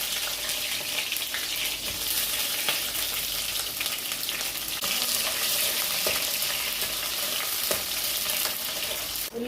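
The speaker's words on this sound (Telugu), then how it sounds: "ఉల్లిపాయలు అయితే బాగా వేగాయి" Onions sizzle steadily in hot oil in a pan with mustard seeds, cooking for a Telugu-style fish curry, a continuous loud frying hiss with occasional stirring clicks, no talking.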